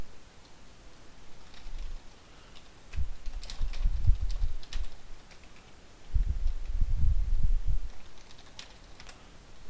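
Typing on a computer keyboard while entering a short word, with close soft key clicks in two clusters separated by a quieter pause.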